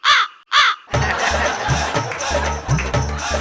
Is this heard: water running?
no